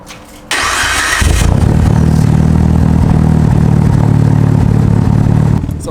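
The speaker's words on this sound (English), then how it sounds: "actually let me go ahead and start it up so that way you guys can hear it idle" A built Mitsubishi Evo 8 cranks briefly, fires and settles into a loud, steady idle that runs close and unbroken for several seconds before cutting off.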